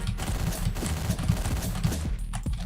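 Rapid gunfire from the top-down action game Hotline Miami, a dense run of sharp shots and impacts at close range over a busy low soundtrack, with no speech.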